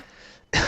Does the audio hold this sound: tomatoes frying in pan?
no